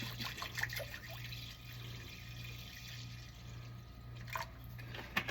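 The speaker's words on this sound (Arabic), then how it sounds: "ندير المية" Water poured into a cooking pot for a quick dinner of rice with tuna and corn, a faint steady trickle with occasional small splashes and drips under a low hum, no talking.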